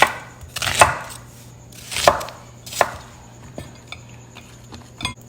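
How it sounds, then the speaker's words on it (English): Shallots are roughly chopped with a knife on a cutting board, giving four firm, evenly spaced chops followed by a few lighter taps, close and clear over a faint steady hum. "So I'm just gonna cut up the shallots"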